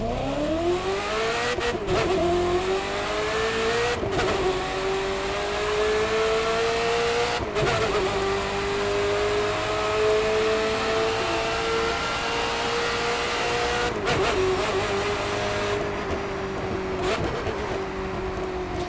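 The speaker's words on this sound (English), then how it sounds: "with the Ferrari F40, listen to the acceleration and then listen to the decel" A Ferrari F40 engine in the video game The Crew 2 screams through repeated accelerations, pitch climbing then dropping sharply at each gear change, loud and continuous.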